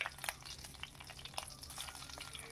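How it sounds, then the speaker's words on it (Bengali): Panch phoron seeds with a dried red chilli crackling in hot oil, quiet rapid pops and spits over a low sizzle, close and faint with no talking. "যখন 5 ফোড়নটা দিয়ে বেশ ভালো একটা ক্র্যাকল সাউন্ড আসবে"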